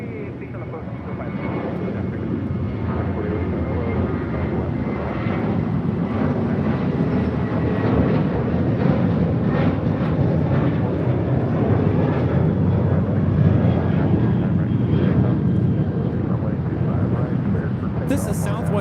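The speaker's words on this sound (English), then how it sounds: "479 taking off to Tucson, Arizona on a 737-700" Steady, powerful jet roar from a Southwest Airlines Boeing 737-700 taking off at LAX, sustained and fairly loud for the whole span, with faint speech underneath.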